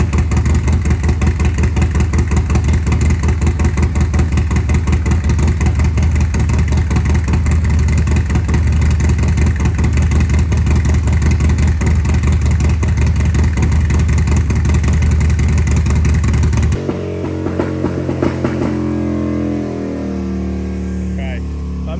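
A Harley-Davidson M8 engine bored out to 128 cubic inches with a Stage IV kit runs hard on a dyno, a loud sustained throbbing roar that cuts to a lower idle near the end.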